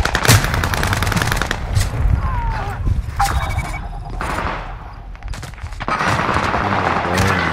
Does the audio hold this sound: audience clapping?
no